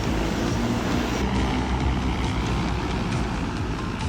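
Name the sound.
human-sized drone taking off and flying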